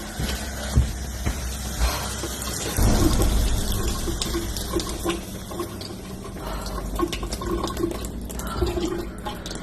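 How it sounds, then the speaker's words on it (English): Water runs steadily from a kitchen tap in a house at night, a continuous splashing stream with occasional knocks and clatters in the room. "I'm just gonna shut the water off here."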